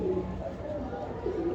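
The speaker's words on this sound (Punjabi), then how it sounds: "ਇਹ ਕੁਆਲਿਟੀ ਦੇ ਵਿੱਚ ਕਬੂਤਰ ਆ ਜੀ ਨੀਲ ਦੁੰਬਾ" A blue dumba pigeon coos in short low bursts at the start and end, close by, with someone talking over the background.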